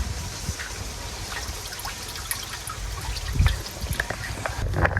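Zinc solution is poured onto a farm plot, giving a steady low trickle and splash of liquid with a brief louder gush near the end, heard outdoors with no talk.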